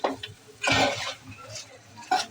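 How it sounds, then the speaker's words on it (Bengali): Duck meat stirred and sautéed in a pot, heard as a few short, close bursts of a spoon scraping and clattering against the metal over a faint background sizzle. "এখন আমি ভালো করে একটু কষায় নিব।"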